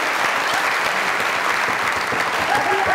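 Studio audience at a comedy talk show breaks into steady, loud applause, a dense, even clapping that fills the whole stretch with no pauses.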